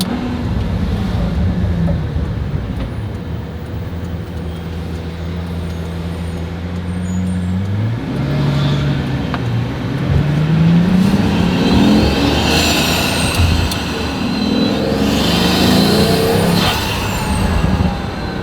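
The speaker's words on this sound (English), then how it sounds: "So you can hear the turbo spool up." A hypercar engine drones steadily, then a rising turbo whine climbs as revs build, with a whooshing blow-off valve release and gear changes; loud, continuous road noise throughout.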